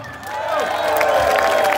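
A festival crowd at an outdoor metal concert cheers and applauds for a sound engineer, a continuous wash of clapping and shouting that swells slightly and holds steady, fairly close and loud.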